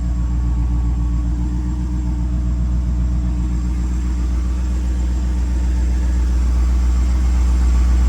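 A 1984 Chevrolet Corvette C4 with a new starter and distributor idles steadily and loudly close by, a smooth low rumble with an even pulsing rhythm and no talk over it.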